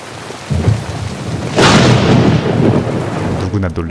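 A loud thunderclap bursts out and rolls on over a steady downpour of heavy rain in a drama scene, close and dominant, with no talking.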